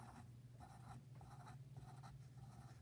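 A pen draws eight pizza shapes on paper in quick, repeated scratchy strokes, close and faint, with short pauses between strokes and no talking.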